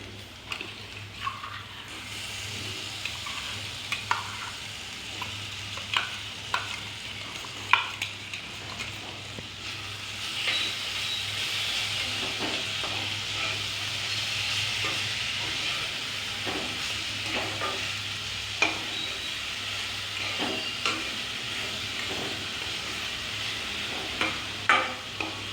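Cluster beans (gavar) frying in a pan, a steady close sizzle that swells partway through, with repeated spatula scrapes and taps as they are stirred.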